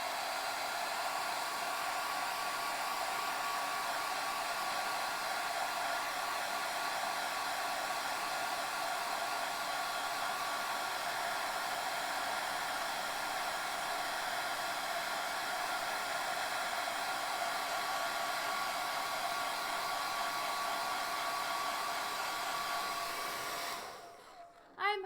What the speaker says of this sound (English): Okay, I'm blow drying her face.